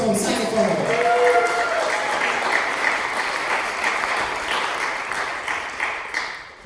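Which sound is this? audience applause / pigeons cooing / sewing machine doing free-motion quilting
audience applause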